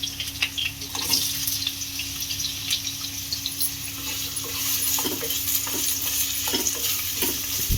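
Potatoes frying in a pan with steady sizzling and repeated stirring scrapes and clatters at an uneven rhythm, close and fairly loud, with no speech.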